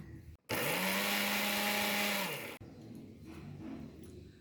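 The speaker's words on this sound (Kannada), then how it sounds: "ಇವಾಗ ಸ್ವಲ್ಪ ಅಂದರೆ ತುಂಬ ನೈಸಾಗಿ ಎಲ್ಲ ತರಿ ತರಿ ಇರೋ ಥರ ರುಬ್ಕೊಂಡು ಬಿಡೋಣ" A mixer grinder whirs loudly for about two seconds, grinding burnt brinjal chutney, with a steady high motor whine that winds down, followed by quieter rattling and handling noise.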